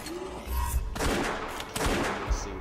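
Gunshots in the video game West of Dead, several loud close blasts in quick succession amid rumbling game sound.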